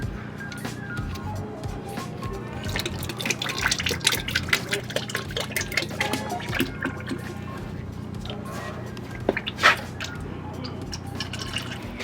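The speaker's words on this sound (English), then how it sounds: "Make sure to loosen the fill hole first and then do the drain hole. This fluid's hot." Hot gear oil from an H10 differential on a V8-swapped Subaru BRZ drains from the drain hole in a steady liquid trickle and gush, with a loud splash near the end, under a constant low hum and a few bursts of talk.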